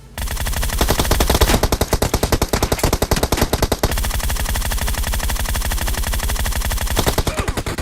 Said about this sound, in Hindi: वो लोग मुझे देखते हैं अकेला समझ के मेरे ऊपर फायरिंग कर देते हैं।